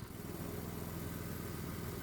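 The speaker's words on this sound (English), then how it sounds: "Let's see what we get when the engine's at full throttle." A 212cc Predator gasoline engine running at full throttle gives a steady, even, throbbing drone that stays constant and fairly quiet at a distance.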